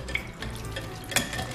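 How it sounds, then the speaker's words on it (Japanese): Boiled soba noodles are rubbed and rinsed in a colander under running tap water, a faint, steady trickle and splash with small sloshing bursts. "こちらの蕎麦のぬめりと粗熱を取るようにもみ洗い"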